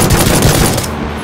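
Loud gunfire from the battle-royale game PUBG, a dense burst of rapid pistol shots that cuts off abruptly after about a second.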